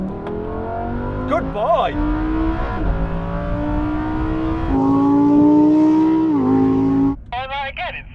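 Lamborghini Aventador SV and Huracan Performante in a rolling race from 50 mph, locked in third gear, engines roaring loud and rising steadily in pitch under floored throttle, with a brief voice near the end.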